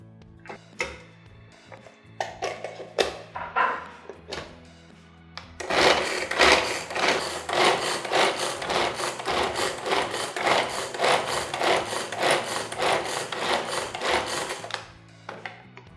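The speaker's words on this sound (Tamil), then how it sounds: "சாப்பரில் போட்டு நல்லா பொடியாக நறுக்கி எடுத்துக்கலாம்." An Agaro food chopper whirs for about nine seconds in a busy, pulsing motor run while chopping onion, preceded by a few sharp clicks of the lid and blade being set.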